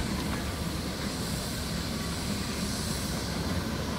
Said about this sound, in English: A Fowler just coming across now in its original working clothes.